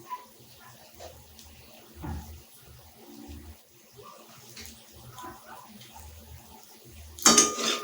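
Water added to a pan of Bengali katla fish curry as it cooks, with a brief splashing pour near the end of a quiet kitchen scene and soft clinks of utensils throughout.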